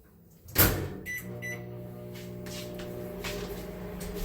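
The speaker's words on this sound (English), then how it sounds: "So I'm going to let that sit in the microwave for about a minute." Microwave oven running while heating cups of water, starting with a sharp click or door thud, then a steady low electrical hum with faint tonal buzz that continues evenly to the end.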